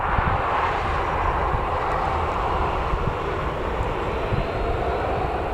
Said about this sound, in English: Got an EasyJet as well on short finals there, so not long before that I'll touch down.